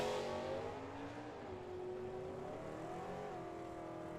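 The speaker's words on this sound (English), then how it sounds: "Maddie, with her 67 Camaro, is going to leave first." A 1967 Chevrolet Camaro leaves the line at a drag strip, its engine note droning steady and loud, rising and settling in pitch with a broad roar and crowd-like wash behind it.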